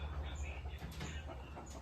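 A six-month-old red Yeer fighting rooster, about 2.5 kg and freshly caught from the flock, gives soft clucks close by over a steady low rumble of farm background noise.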